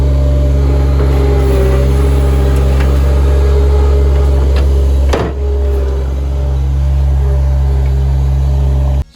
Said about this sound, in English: here's actually a short time lapse of the excavation of the area here with the skid steer